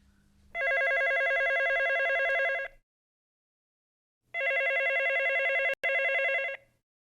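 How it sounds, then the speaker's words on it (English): A telephone rings in two long electronic trilling bursts separated by a pause of silence, loud and close with no voices. "The phone rang, and Susie answered it."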